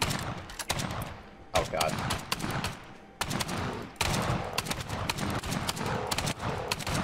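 Dense automatic gunfire in YLand, a sandbox building game, with rapid repeated shots fired at mobs attacking a barricade, steady bursts with brief gaps and a voice exclaiming over it.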